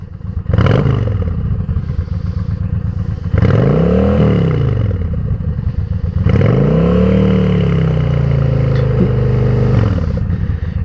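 A Honda Shadow motorcycle with its exhaust baffles removed revs three times under light load. Each loud, close rise climbs and falls in pitch, and between blips the engine settles into a deep, rumbling idle.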